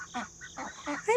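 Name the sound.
ducks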